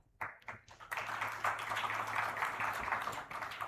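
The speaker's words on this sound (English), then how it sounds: "Can we have a huge round of applause for him as well?" Audience clapping for a government minister at a ministerial conference session, starting with a few scattered claps and swelling into steady applause that continues to the end, fairly quiet and distant.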